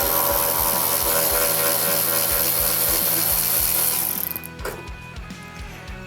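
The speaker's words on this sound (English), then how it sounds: "You just gotta take the factory air box off here." Ratchet working on fasteners while removing a car's factory air intake box, with rapid, loud, steady clicking for about four seconds, then quieter handling and scraping noises with no talking.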